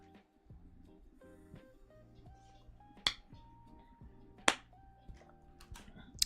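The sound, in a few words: opening and closing a water bottle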